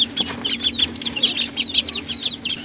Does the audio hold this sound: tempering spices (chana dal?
no